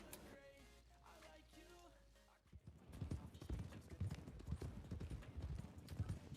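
Horse hooves clip-clop in the Red Dead Redemption 2 roleplay world, first under a quieter stretch with a voice and music, then a brisk, steady run of loud, close hoofbeats.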